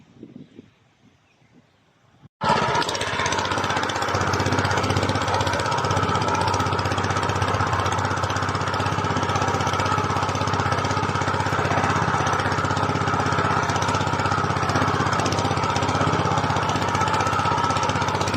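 A multi tiller engine starts up abruptly and then runs loud and steady, churning through hard, dry farmland soil with a constant close roar and no talk over it.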